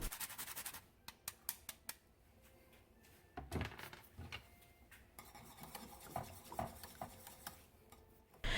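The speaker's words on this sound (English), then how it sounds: "Now I'm going to grate in fresh nutmeg." Fresh nutmeg is grated into a Greek pastitsio pasta bake, giving soft, close rasping scrapes in quick uneven strokes with a few light clicks and taps between them.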